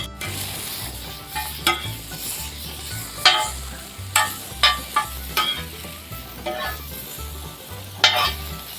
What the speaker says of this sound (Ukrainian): Якщо чути цей шкварщащий звук, значить це йде правильно.